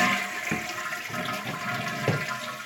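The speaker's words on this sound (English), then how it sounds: "get rid of all the water that's in there with a flush" A toilet flushes to empty its tank after the water supply is shut off during a leaky-tank repair, a close, loud rushing swirl of draining water that gurgles on steadily.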